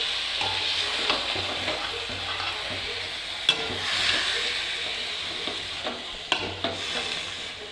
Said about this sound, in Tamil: இப்போ இதை நல்லா நம்ம கிளறி விட்டுக்கலாம்.